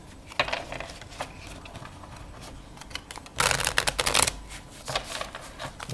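Crisp bursts of riffling Bicycle Alchemist playing cards, a short flutter early on and a denser, louder cascade in the middle, followed by lighter taps and bridging sounds.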